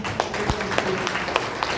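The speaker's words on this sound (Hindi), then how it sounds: "एक बार फिर से तालियां" Scattered clapping from a crowd at a junior Arya Samaj annual function, individual claps standing out irregularly over a busy room with faint background voices.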